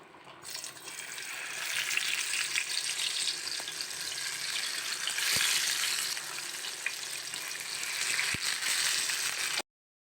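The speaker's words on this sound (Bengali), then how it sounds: "মাছগুলা ভাজা কমপ্লিট আমি এখন তুলে নিচ্ছি তারপর বাকি মাছগুলা আমি ভেজে নিব" Tilapia fish frying in hot oil, a steady, loud, close sizzle that hisses without a break for about ten seconds, with a couple of faint knocks, before cutting off abruptly.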